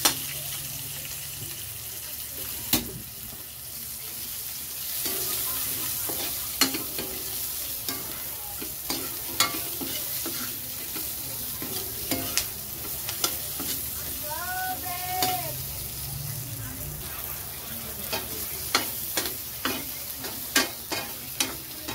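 Onions stir-fried with beef and broccoli sizzle steadily in a pan, punctuated by repeated sharp clacks of a utensil stirring, with a faint brief chirp in the background.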